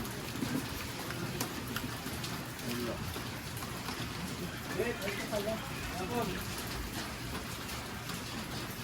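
Steady rain falls throughout, a dense even hiss of drops with people talking and moving nearby over it.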